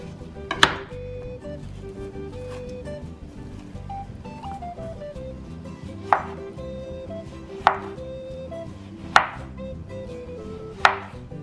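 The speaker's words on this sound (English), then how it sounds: "now I'm gonna teach you guys how to slice up the ripe plantain" A knife slices through ripe plantain on a cutting board, giving six or so sharp, evenly spaced chops against the board over a low background hum; close and distinct, with no talking.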